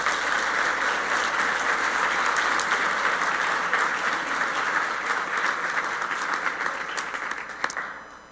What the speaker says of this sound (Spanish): Den un aplauso bien grande al Señor.